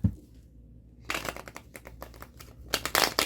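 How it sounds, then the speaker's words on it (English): A deck of tarot cards is shuffled up close, with a couple of bursts of rapid riffling and flicking card noise after a brief quiet start, ending in a louder flurry. "we'll give the deck a couple quick shuffles before we jump into the second card"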